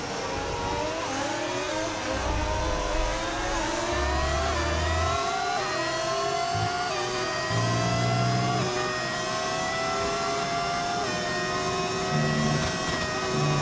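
An F1 race car engine in the racing game F1 25 gives a continuous high-pitched whine whose revs rise and fall steadily, with low thumping underneath and no talk.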